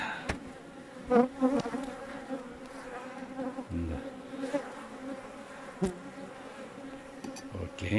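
Steady droning buzz of many honeybees close by in a hive, with a few brief spoken words and some clicks over the hum.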